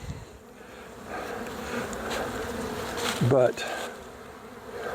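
A honeybee swarm drones steadily around a hive, a dense buzzing with individual bees passing close, and one louder buzz flaring briefly near the end. A single spoken word cuts in faintly.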